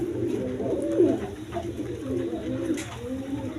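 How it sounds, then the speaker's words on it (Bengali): Pair of black lace shirting pigeons cooing repeatedly at close range, low throaty coos rolling one after another over a steady background hum. "কবুতর দুটা নর্মাদি সেম টু সেম এক কালার দেখেন কি ডাকা ডাকে প্রচুর ডাকা ডাকে"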